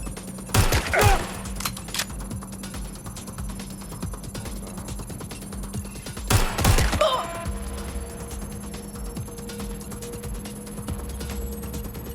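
Enemy gunfire in the video game Watch Dogs: Legion: two loud bursts of rapid shots, one near the start and another about six seconds later, over a steady electronic hum and game background noise.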